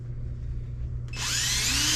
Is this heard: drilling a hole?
yes